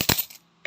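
Coins dropping into a coin bank: a few sharp metallic clinks in quick succession, a brief ringing pause, then one more clink, close and fairly loud.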